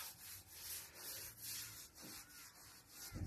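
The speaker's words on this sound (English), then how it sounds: "Give it a good scrub down the bottom because the panels are usually dirtier down the bottom." A soft bristle brush scrubbing a wet solar panel tilted at 20 degrees, quiet repeated rubbing strokes in an uneven rhythm, close and faint.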